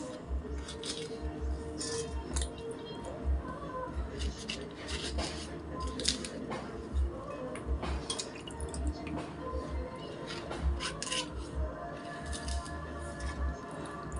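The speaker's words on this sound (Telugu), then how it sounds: "ముందు పచ్చిమిరగాయలు కట్ చేస్తాను" Green chillies are sliced with a knife on a board in a home kitchen, giving soft, irregular cutting taps and small squishy sounds, fairly faint and close, with light background noise.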